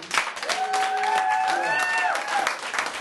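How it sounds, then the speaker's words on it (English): An audience at a comedy open mic night applauds, with steady clapping and whistled cheers carrying on for about three seconds. "Y'all give my nigga Crick a round of applause, man."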